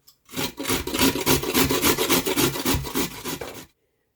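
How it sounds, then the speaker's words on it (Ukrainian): Steady rhythmic rasping of a carrot rubbed over a coarse grater, fast repeated strokes for several seconds, then it stops. "Моркву на велику терку."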